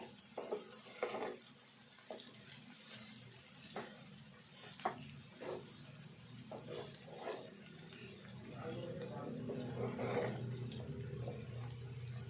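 Bitter gourd pieces are stirred into a tomato curry in a frying pan, giving repeated scraping spoon strokes over a steady sizzle that grows fuller toward the end, close and moderately loud.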